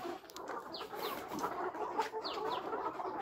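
Layer hens about three months old clucking throughout a poultry farm shed, a dense, steady chorus of overlapping calls with occasional sharper squawks, fairly close and continuous with no talking.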